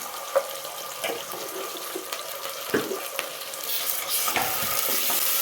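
Ginger garlic paste fries in a pan for a quick rice bath breakfast, giving a steady hissing sizzle with occasional scrapes and taps of a stirring spoon, and the hiss grows louder toward the end, with no talking.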